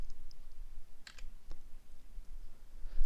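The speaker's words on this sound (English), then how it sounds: "confirm the action by clicking the Borrow button" A few quick computer mouse clicks sound close and crisp over a quiet room background, with no talking.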